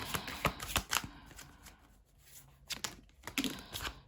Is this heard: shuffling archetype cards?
yes